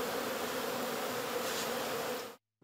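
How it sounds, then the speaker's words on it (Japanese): A swarm of honeybees buzzes steadily around their newly moved hive at a new government building, a dense, continuous close hum that stops abruptly. "ミツバチたちは新しい住まいが気に入ったようで、早速元気に飛び回っていました。"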